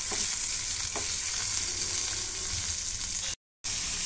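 Chillies and peppercorns fry in a hot pan with a steady, fairly loud sizzle and occasional stirring scrapes, briefly cutting to silence near the end.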